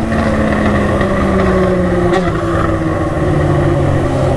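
Yamaha XJ6 motorcycle riding along a beach road, its exhaust droning steadily and loud with a brief crackle of popping partway through, no talk.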